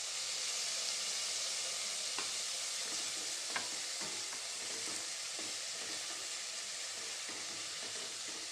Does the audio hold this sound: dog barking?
no